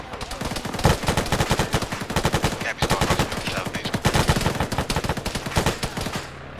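Rapid automatic gunfire in a video game rattles almost nonstop, loud and close, in long bursts of sharp cracks with a brief gap near the middle and a tail-off at the end.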